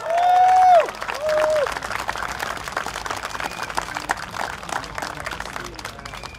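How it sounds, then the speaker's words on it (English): A crowd at an outdoor election rally in Marsiling-Yew Tee, Singapore claps and cheers as a candidate is introduced. The applause is fairly loud, with a steady patter of many hands and a few whoops, under a brief amplified voice at the start. "a round of applause please"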